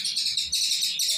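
Dense, continuous high-pitched chirping from many bulbuls at once at a bird market stall, bright and busy, with no clear pauses.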